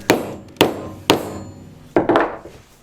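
Turned wooden piece tapped into a wooden knife block, giving four or five sharp, solid wooden knocks spaced about half a second apart, close by, the last pair quicker and slightly rattling.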